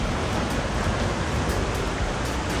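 Ocean surf rolls in at Playa Manzanillo beach in Limón Province, Costa Rica, a broad, loud, steady wash of breaking waves with no voices.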